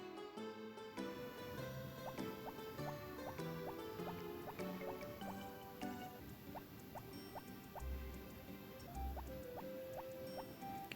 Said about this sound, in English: we help water the flowers. Not the flowers, the crops.